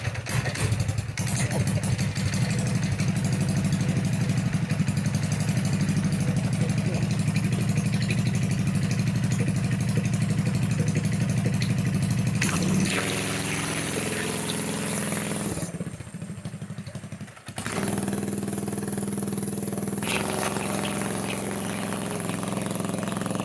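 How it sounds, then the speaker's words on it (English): A cheap Amazon go-kart's small engine drones loudly and steadily as the kart is driven down a driveway, the pitch shifting and dropping out briefly near the end before picking back up. "I'll show you what it's like to drive this thing down the driveway"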